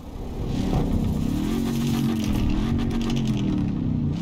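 Video game car engine and exhaust revving steadily up and down, close and loud, with no voices.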